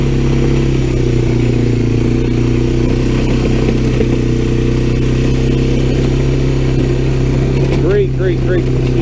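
Honda Fourtrax 300 ATV engine running at a steady throttle while plowing snow, a loud continuous close drone with clattering of the plow, a voice talking over it.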